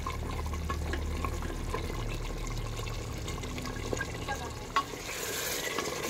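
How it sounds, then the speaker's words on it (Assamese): Mutton pieces fry and get stirred in a pan for a dal gosht, a steady close sizzle with scraping spoon strokes throughout and a sharp clink near the end, with no talking. "এইয়া মটন মই ভাজি আছোঁ আৰু যিমানেই ভাজিম সিমানেই সোৱাদ হয়"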